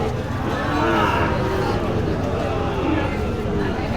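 Sahiwal cattle low at a busy livestock market, their deep moos blending into a steady wash of crowd babble and trading chatter that fills the scene without a break.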